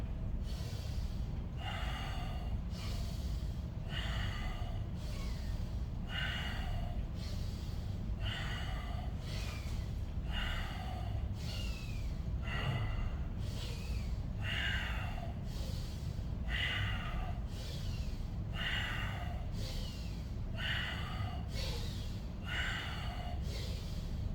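Slow guided breathing exercise, a steady series of audible inhales and exhales repeating at an even pace over a constant low background hum, with no talking.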